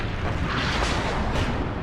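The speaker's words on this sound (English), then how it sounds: "Artillery coming in." Incoming artillery fire in the Cold War strategy game WARNO, heard as a continuous, loud, close rumbling roar of shell blasts with no clear gaps, lasting a couple of seconds.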